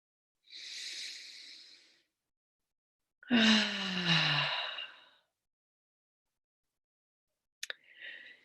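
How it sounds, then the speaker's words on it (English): A group deep breath taken together, with a soft inhale followed by a longer, louder exhale that ends in a voiced sigh. A brief click and a faint breath follow, all close and without talk. "Let's take one more deep breath together."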